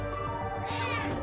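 A house cat meows once or twice, close and clear, in a home workshop during a BMW E90 dash conversion, with no other voices heard.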